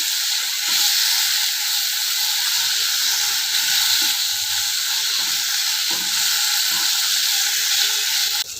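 Tomatoes and onions sauté in a pan for a small-lentil soup, giving a steady, close sizzling hiss that runs unbroken throughout, with faint stirring scrapes and no talking.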